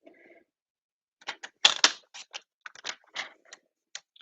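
Designer series paper being trimmed on a paper trimmer, a quick series of crisp clicking cuts and blade slides in an otherwise quiet room.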